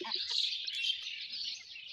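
A cluster of chicken chicks peep in high, rapid, overlapping chirps, close and steady, with no voices.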